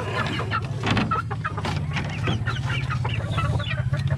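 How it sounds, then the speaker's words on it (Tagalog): Several hens, a flock of gold-colored birds, cluck repeatedly in a busy overlapping chorus, loud and close, with continuous low background noise underneath. "Ang daming binabae dito na manok nila Benji."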